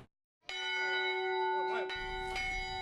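Children ring a peace bell in Fuji City, Shizuoka: a clear metallic strike rings out after a brief silence and sustains a long humming tone, then the bell is struck again.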